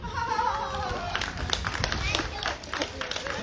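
Audience applause at a cultural showcase and exhibition, steady broadband clapping from a crowd filling the space, with voices talking over it throughout.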